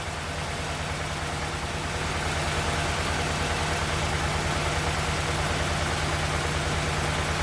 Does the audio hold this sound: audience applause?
no